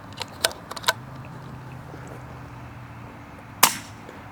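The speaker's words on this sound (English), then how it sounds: "I will rotate just a tiny bit and then I will dry fire" A Priest2 paintball marker fitted with a new regulator is dry fired, giving one sharp, loud pop near the end. A few lighter clicks of handling come before it over a low steady hum.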